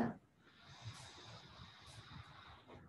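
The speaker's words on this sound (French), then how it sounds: "on peut prendre 3 belles respirations profondes." One slow, deep breath during a yoga session for the hamstrings and hips, a soft, airy breathy hiss sustained close to the microphone for a few seconds.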